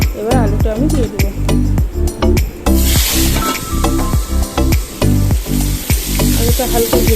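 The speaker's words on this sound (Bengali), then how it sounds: "আমি কড়াইতে গরম করে নিয়েছি তেল, এবার আলুটা আমি দিয়ে দেবো।" Potatoes fry loudly in hot oil in a wok with a dense, continuous crackling sizzle, punctuated by repeated rhythmic thumps and scrapes of stirring; a sudden burst of extra hiss comes partway through.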